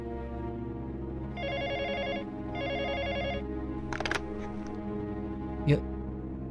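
A telephone bell rings in two short bursts inside a quiet house, each a steady electronic trill lasting about a second, over a low background drone with a few clicks afterward.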